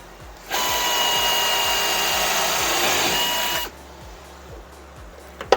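A power drill whines steadily at high speed for about three seconds, drilling into aircraft wing skin, then stops, leaving a low rhythmic hum and a brief clatter.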